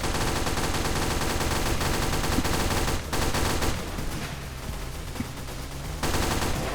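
Dense, continuous gunfire in the video game Final Stand 2 on nightmare mode, a loud unbroken barrage of rapid shots with two brief dips in intensity.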